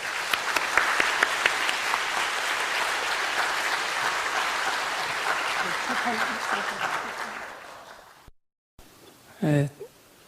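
A lecture audience at a Korean church gathering claps to welcome a visiting professor. Sustained, fairly loud applause for about eight seconds fades out abruptly, followed by a brief voice.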